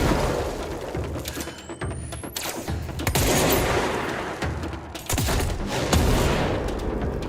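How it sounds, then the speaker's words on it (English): A grenade launcher in the game Control fires repeatedly, with sharp booming blasts and explosions spaced irregularly over dense, noisy combat sound, close and loud, no speech. "This grenade launcher is fun."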